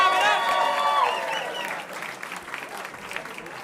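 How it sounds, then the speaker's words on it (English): A comedy club audience claps and cheers for a comedian at the start, the applause fading over a few seconds into scattered claps, with a voice shouting over it. "Clap it up."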